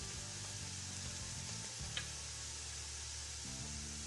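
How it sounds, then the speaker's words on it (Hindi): Salt, ground red chilli and turmeric fry briefly in oil for kadhi pakora, a soft steady sizzle under a low droning hum, with one faint utensil tap midway. "और अब इसको फ्राई कर लेना है थोड़ा"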